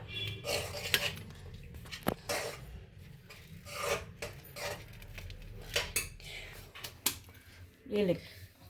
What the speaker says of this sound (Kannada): ಸಣ್ಣ ಉರಿಯಲ್ಲಿ ಚೆನ್ನಾಗಿ ಮಿಕ್ಸ್ ಮಾಡಬೇಕು ಇದನ್ನು